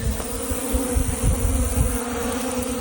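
Honey bees buzz steadily around beehives in an apiary yard, a dense close hum filling the whole moment.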